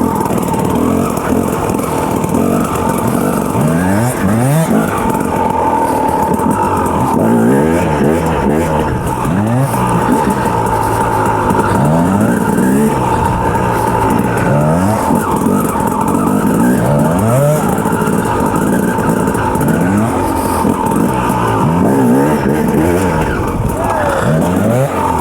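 A 2007 KTM 250 EXC two-stroke dirt bike accelerates on a ride with a loud, continuous engine that rises and falls in pitch as it revs and shifts, heard from on board.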